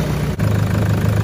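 A vehicle engine, fitted with a 270Ah lithium start battery in the engine bay, idles with a steady, close low rumble for a brief moment, broken by a tiny dip.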